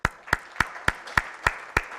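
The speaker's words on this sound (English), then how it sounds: "Let's give a great clapping for him." Audience clapping after a talk on risk quantification: about seven sharp, evenly spaced claps in a slow steady rhythm, close and fairly quiet, with no talk.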